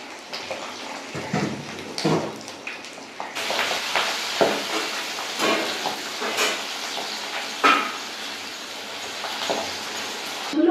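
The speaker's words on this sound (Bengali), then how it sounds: "এবার আমি উল্টে পাল্টে মাছগুলোকে ভালো করে ভেজে নেব।" Pabda fish fry in hot oil and are flipped now and then, giving a constant bright sizzle that swells as each piece is turned. Occasional clinks of a spatula against the pan come through, with no talking.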